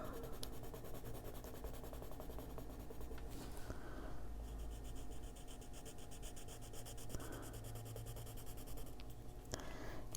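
Colored pencils scratch and rub steadily across paper as ultramarine and other shades are blended, a close, continuous dry scraping with short pauses between strokes, no talking.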